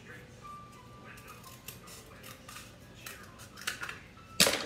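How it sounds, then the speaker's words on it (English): Scissors cutting a paper butterfly down the middle, a few faint snips under low room noise ending in one sharper, louder cut at the close. "Now, I'm gonna cut it down the middle."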